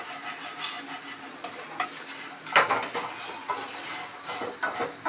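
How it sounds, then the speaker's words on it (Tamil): Plantain pepper fry cooking uncovered in an open pan, giving a steady close sizzle with occasional stirring and scraping clicks, no voices. "இல்லை நல்லா ஃப்ரையாக வேணும்னா ஓப்பன்லேயே அப்படியே ஃப்ரை பண்ணலாம்."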